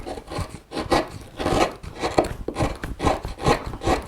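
A flat gouge carves into wood while shaping the collar of a carved hanging shirt, giving repeated rasping, scraping strokes in a steady rhythm of about two per second, close and fairly loud with no talk.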